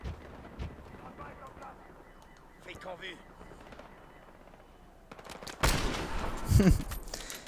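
Gunfire in a Battlefield Hardline multiplayer match comes in a burst of loud close shots near the end, after quieter game sounds and sparse distant effects, with someone talking over parts of it.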